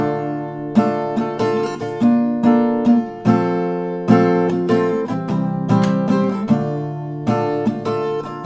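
Acoustic guitar strums a couple of rounds of a song at a standard tempo, with steady chord strokes ringing close and clear and no voice over them.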